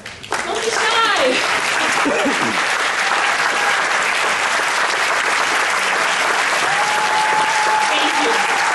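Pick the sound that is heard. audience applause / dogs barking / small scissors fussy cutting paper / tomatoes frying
audience applause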